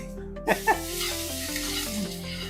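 Ginger, garlic and green chilli paste hits a hot pan with a couple of sharp crackling bursts, then settles into a steady sizzle beneath soft background music.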